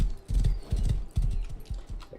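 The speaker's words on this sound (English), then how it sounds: "The horse kind of gets confused around mountainous terrain." Horse hooves clip-clop on terrain in a video game, a close, loud series of uneven hoofbeats in quick groups with no talking over them.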